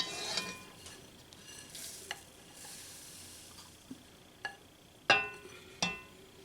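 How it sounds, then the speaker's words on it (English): Melted peanut butter is stirred into a cookie mixture with a spoon. Quiet, scattered scrapes and a few sharp clinks against the bowl stand out over a faint background hiss. "Gonna stir that around. Melt your peanut butter into the mixture."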